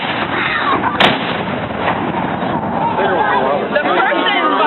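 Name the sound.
cannon firing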